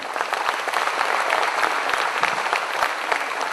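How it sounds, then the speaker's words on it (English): Business conference audience at a stock exchange partnership announcement giving a round of applause, dense steady clapping filling the room, loud and unbroken throughout. "Let's have a huge round of applause for them."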